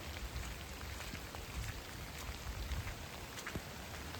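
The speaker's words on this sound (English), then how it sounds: "Just see a lot of rain." Rain falls steadily outdoors near a pond, a soft, even patter of drops heard faintly at a distance, unbroken and without any voices.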